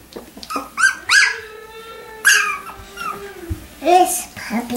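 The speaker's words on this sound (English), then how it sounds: "Oh, look, there's Pearl and Kason, or Cruiser playing, chewing on each other." Doodle puppies play and chew on each other, giving short whimpers and yips close by, mixed with a child's and an adult's voices talking over them.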